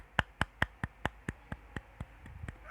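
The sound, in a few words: class clapping hands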